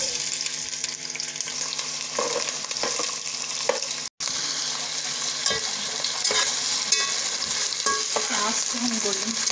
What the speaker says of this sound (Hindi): प्याज को हम गोल्डन फ्राई करेंगे।